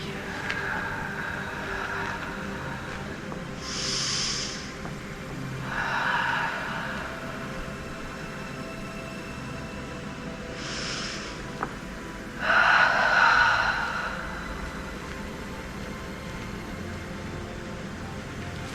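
Slow, deep breaths during a gentle exercise class: four soft, airy inhales and exhales spaced several seconds apart, the last one the loudest, over a steady room hiss.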